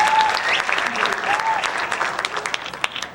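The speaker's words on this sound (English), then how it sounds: "Give him another round of applause, please." A high school jazz concert audience applauds a piano soloist, a full burst of clapping with a few whoops and voices mixed in that thins out toward the end.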